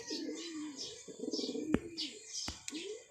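Racing pigeons coo in low, throaty rolling calls, close by, with chirps and a few sharp clicks or taps mixed in.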